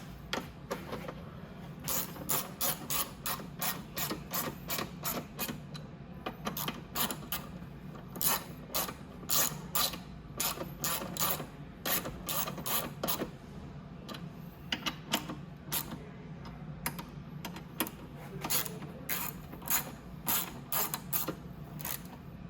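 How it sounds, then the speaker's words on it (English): Screws are tightened on the rear fender of a Venom Roma 50cc scooter: a long run of quick, faint ratcheting clicks in short bursts, close and quiet with no talking. "Okay, now I just have to tighten those down."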